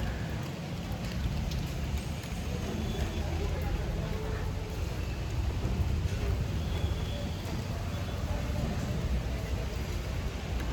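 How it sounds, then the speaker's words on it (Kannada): Steady heavy rain falls in Bangalore as a dense, continuous wash of noise with no breaks. Low rumbles sit underneath it. "ಈ ಥರ ಮಳೆ ನೋಡೋದು ತುಂಬ ದಿನಗಳಾಗೋಯ್ತು ಬೆಂಗಳೂರಲ್ಲಿ"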